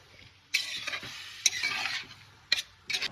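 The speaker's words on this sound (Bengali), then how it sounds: "ডালটার সাথে আমি সবজিটাকে ভালো করে আবার আরেকবার নেড়ে নেব" A spoon stirs mixed vegetables together with toor dal in a pan, producing several close scraping, shuffling strokes with faint sizzling between them, each stir starting with a sharp scrape.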